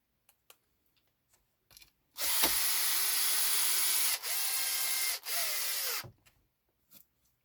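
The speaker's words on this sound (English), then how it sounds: "we're just going to get some of the other screws in." A power tool drives screws into Hot Racing upgrade parts on a Traxxas E-Revo 2.0 VXL RC truck: three close, loud whirring runs back to back, about four seconds in all, with near silence before and after.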